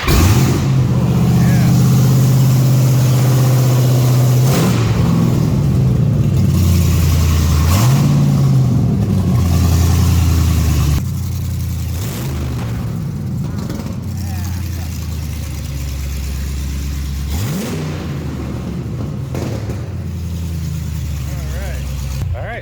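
A bullet-riddled Dodge Hellcat's supercharged Hemi V8 fires up and runs, loud close revving blips rising and falling over a deep rumbling idle, with people talking over it.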